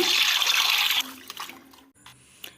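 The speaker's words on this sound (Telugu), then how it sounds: "ఇంకా పసుపు సాల్ట్ వేసి శుభ్రంగా వాష్ చేసుకున్నాను" Fish being washed with turmeric and salt under running water in a village kitchen: a steady gush of water for about a second, then quieter splashing and a few light clinks.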